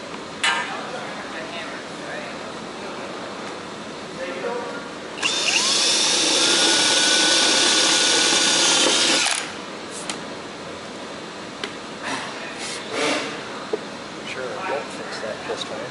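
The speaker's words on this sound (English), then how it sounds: "we'll just drill a hole right at the cross" A power drill whines steadily for about four seconds, loud and close, with quieter handling noises before and after.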